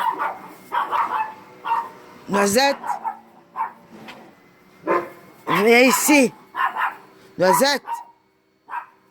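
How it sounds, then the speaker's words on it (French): A small dog barks and yips repeatedly at close range in a home, with bursts of sharp barking between stretches of someone talking. "Désolé pour le chien."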